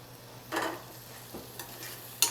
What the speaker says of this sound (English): Once we get a little bit of a saute on these